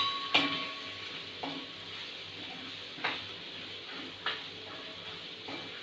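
Red chili powder and salt frying in a pan for butter chicken give a faint, steady sizzle broken by a few sharp scrapes and clinks of stirring, with no talk.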